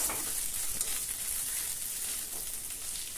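Onion and masala fry in a pan with a dense, continuous hiss and crackle, stirred back and forth throughout, close and fairly loud with no talking.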